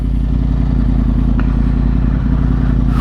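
A 2010 Yamaha R1 1000cc motorcycle idles in neutral, a loud, close, steady engine drone with an even low rumble and one faint clink partway through.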